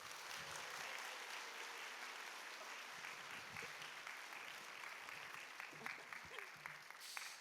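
A church congregation applauds in steady, continuous clapping that stays fairly even throughout, heard faintly at a distance, with a few individual claps standing out near the end.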